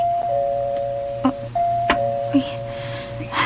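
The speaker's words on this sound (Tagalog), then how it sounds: "Kinsa magkaroon ng doorbell sa gate." A doorbell at a gate rings with a steady electronic tone that carries through most of the clip, broken by a few soft knocks and clicks at moderate loudness.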